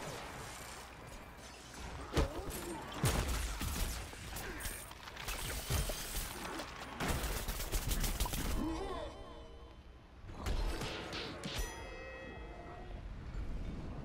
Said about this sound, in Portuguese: E eles estão explodindo lá, que nem uns loucos.